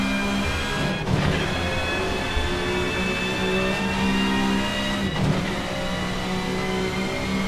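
A 1995 touring car engine drones loudly and steadily on track in pre-season testing, with its tone dipping briefly twice as the throttle eases and then picks back up.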